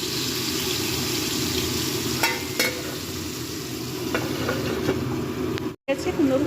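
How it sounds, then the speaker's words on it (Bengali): Pumpkin slices fry in smoking-hot oil in a pan, a steady close sizzle with occasional sharp crackles and scraping, under a brief dropout near the end, with some voices. "ডাল দিয়ে খাওয়ার জন্য এখানে একটু কুমড়ো ভাজা করে নিচ্ছি।"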